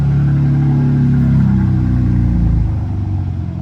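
BMW M2 engine idling with its exhaust valve open, a loud, deep, steady rumble close by that drops slightly lower toward the end, with no talking over it.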